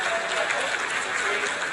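Applause from a crowd, a dense, steady patter of many hands clapping throughout.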